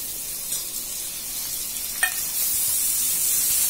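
Coriander leaves hit hot oil in a pan while lemon rice is being tempered, giving a steady, close frying sizzle with a brief sharp crackle midway that swells slightly louder toward the end.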